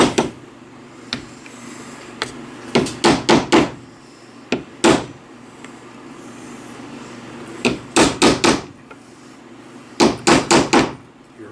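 A wheel bearing seal is driven in with a block of wood, producing close, dull knocks that come singly and in quick bursts of three to five taps, separated by short pauses.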